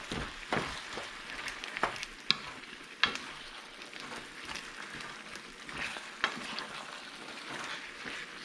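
Beef and pineapple stir fry cooks in sauce in a pan, a faint, soft sizzle with occasional louder clicks and scrapes of a utensil, no one speaking.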